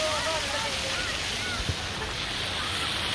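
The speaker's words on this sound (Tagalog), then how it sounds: "Yan yung dagat." Sea waves at Lusail Promenade on Christmas Day wash in a steady, broad rush with wind buffeting the microphone, and faint voices under the surf.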